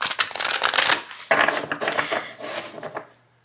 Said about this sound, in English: I tend to riffle shuffle sideways like this